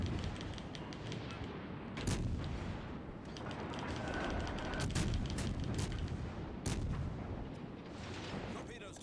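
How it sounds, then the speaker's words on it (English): Naval ship guns fire in World of Warships Legends, with repeated sharp booming salvos over a dense, steady battle rumble; a voice talks at times. "Oh yeah, guns coming everywhere."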